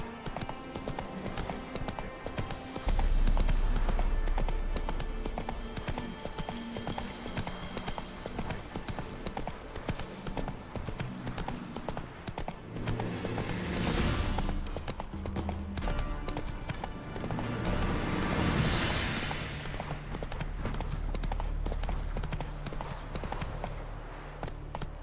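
Horse hooves galloping in The Witcher 3 video game, a steady clip-clop rhythm running through most of the stretch, fairly close and loud, with music and game ambience beneath and brief swells of other noise.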